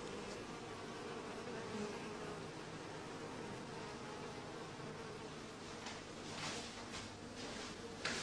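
A small honeybee colony clusters quietly after a period of confinement, giving a steady, dense buzzing hum that stays even throughout with no voices, swelling slightly near the end.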